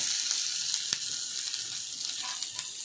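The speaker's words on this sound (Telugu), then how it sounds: "ఇప్పుడు నువ్వులు చిటుపటం అంటున్నాయి" Sesame seeds crackle and pop in hot oil over a steady sizzle, with sharp little bursts scattered throughout.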